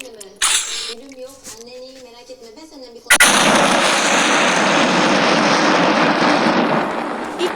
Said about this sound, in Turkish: Nükleer bomba atacağım.